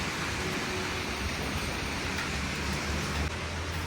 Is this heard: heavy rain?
yes